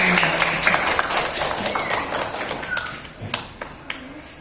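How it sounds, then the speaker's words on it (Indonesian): Schoolchildren clap their hands together in an Indonesian classroom, a lively, dense burst of claps close by that thins out into a few scattered final claps. "Tepuk tangan untuk kita semua"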